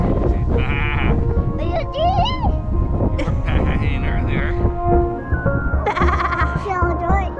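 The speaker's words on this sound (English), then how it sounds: "you want to go play with the sheep?" Sheep bleating repeatedly nearby in Ireland, several wavering calls overlapping with people talking and a voice, amid outdoor background noise.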